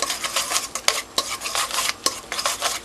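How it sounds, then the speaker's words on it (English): Wire whisk beating butter into hollandaise sauce off the heat, a quick steady swishing broken by sharp metallic taps against the bowl, close and alone. "we could start adding the butter off the heat and just whisk until it starts emulsifying"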